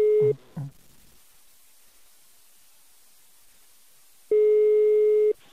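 Telephone tone on an outgoing call: a steady electronic beep sounds briefly at the start, a long silent gap follows, then the tone returns for about a second, clear and close with a faint hiss.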